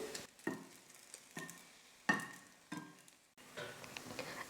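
Bread slices toasting on a pan or dosa griddle give soft, faint sizzles broken by several distinct scrapes and taps of a spatula, spaced about a second apart.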